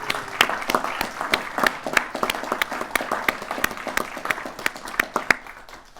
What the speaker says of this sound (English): I want you everybody to give her a round of applause